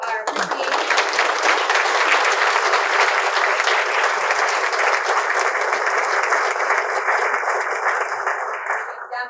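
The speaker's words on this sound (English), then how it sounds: "if you'll please join me in a round of applause to show our appreciation" A banquet-room audience at a chamber of commerce dinner gives a sustained round of applause, dense and even clapping lasting several seconds before fading.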